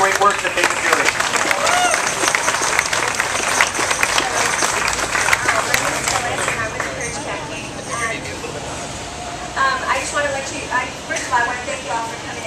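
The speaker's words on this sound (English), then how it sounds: "If we can give the Courage campaign a big round of applause for the great work that they've been doing." Crowd applause at an outdoor counter-rally in Woodruff Park, Atlanta, for the Courage campaign: sustained clapping that thins out midway, with voices and talk mixed in.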